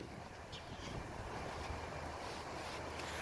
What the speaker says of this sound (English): We're working out here in the wind today, unfortunately.